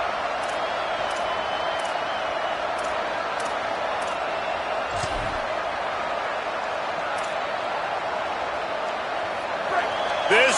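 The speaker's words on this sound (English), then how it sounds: "This crowd bringing serious noise on this huge 4th down play" A large college football stadium crowd roars on a 4th down play in a video game, a continuous, dense wash of noise, with occasional sharp thuds and whistles cutting through the sustained din.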